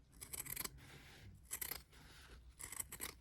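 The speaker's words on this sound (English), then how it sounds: "cutting it with scissors. It's already fraying." Scissors snip through fabric in three quick bursts of crisp, close-up cutting, with short quiet pauses between them.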